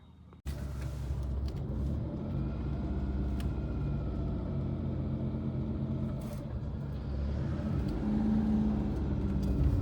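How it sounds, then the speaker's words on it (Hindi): A car driven at night produces a steady, low engine rumble heard from inside the cabin. The rumble continues without a break and builds slightly toward the end, with no talking. "तो एक बार गाड़ी को चला के और देखते हैं।"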